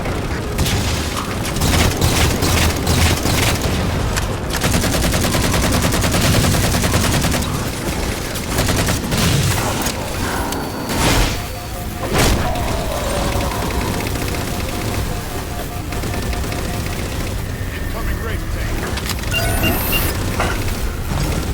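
Railgun fire and battle in Halo 4 against Phantom dropships, a continuous loud barrage of booming shots, blasts and mechanical clatter lasting over twenty seconds with little break.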